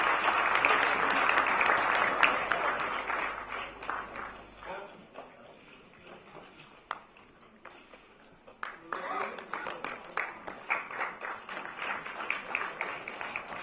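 An audience at a community radio gathering breaks into applause that fades after a few seconds. Scattered claps and renewed clapping follow, mixed with voices and movement.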